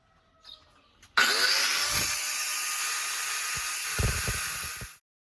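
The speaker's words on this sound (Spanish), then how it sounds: "con ayuda del disco de corte que nos mandó nuestros amigos de Clean Sport, vamos a cortar dichos tornillos" Angle grinder with a cutting disc slicing through protruding screws: a loud, steady high-pitched whine runs for about four seconds and then stops, with a few knocks of handling underneath.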